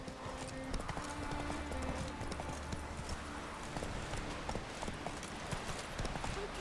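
Horse hooves clip-clop at a steady galloping rhythm in The Witcher 3, a continuous loud beat with a brief whinny and faint game music underneath.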